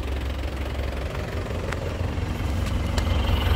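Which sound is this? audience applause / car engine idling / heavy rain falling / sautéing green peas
car engine idling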